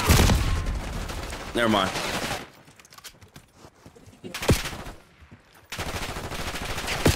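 Gunfire in the video game Black Ops 6: dense bursts of shots in loud stretches at the start and end, with a quieter gap in the middle, while someone talks over the action.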